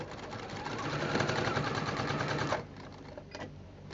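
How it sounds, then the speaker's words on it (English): A sewing machine stitches a quilt binding seam, a steady rapid mechanical whirring clatter for about two and a half seconds before slowing and stopping, with a couple of faint clicks after. "I just sew using the white fabric as my guide for my seam"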